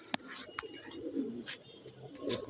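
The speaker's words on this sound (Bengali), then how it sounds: "এটা জিরা গলা কবুতর জিরা গলা কবুতর বিটার" A jira-gola pigeon, a fancy pet breed, gives a short, soft, throaty coo close by, with a couple of sharp clicks or taps and light background rustling.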